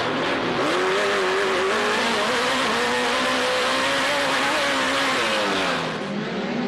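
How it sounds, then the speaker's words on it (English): A Ford Pro truck's engine roars during an off-road race at Lake Elsinore, revving in long rising and falling sweeps, loud and continuous, with some tire noise. "A lot of torque inside of that Ford."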